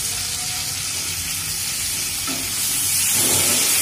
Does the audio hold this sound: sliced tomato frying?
yes